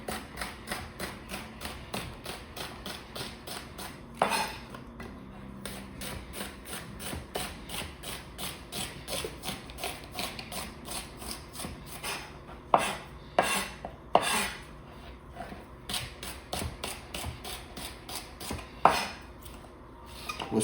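A knife julienne-cuts on a cutting board, a fast steady run of crisp close taps with a few louder knocks and pauses scattered through.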